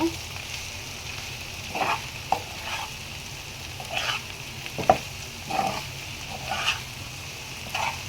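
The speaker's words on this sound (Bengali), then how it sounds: "ধনিয়া পাতা দিয়ে একটু নেড়ে চেড়ে মিশিয়ে নেব" Bitter gourd with shrimp and coriander leaves frying in a pan, with a soft steady sizzle broken by repeated scraping stirs of a spatula at irregular intervals, close and fairly quiet.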